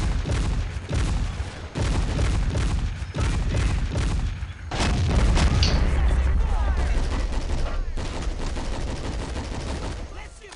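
Infantry rifles and cannons fire across a World War II battlefield in the strategy game Men of War: Assault Squad, with dense overlapping gunshots and heavy booms rolling loud and continuous throughout.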